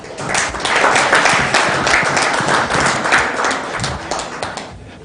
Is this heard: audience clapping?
yes